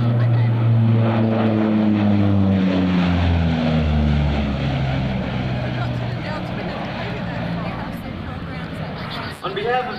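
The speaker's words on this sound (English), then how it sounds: "Commander Cloak will bring the Hawkeye pass a farewell salute called the E-2 Dome Bomb" An E-2C Hawkeye turboprop at the 2004 NAS Oceana Airshow roars past in a loud, droning flyby whose engine pitch slides downward as it goes by, with an announcer talking over it.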